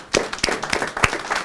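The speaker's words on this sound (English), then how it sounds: "let's just clap our hands" An audience claps in thanks for Easter Seals at a veterans employment seminar, starting with a few scattered, uneven hand claps close by that build into a loose patter.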